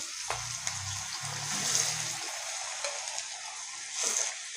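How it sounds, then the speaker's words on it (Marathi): Tikki patties frying in oil in a pan over high heat, a steady broadband sizzle with a low tonal hum from roughly one to two seconds, close and fairly quiet. "आता आपण हे टिक्की या तेलात सोडूया"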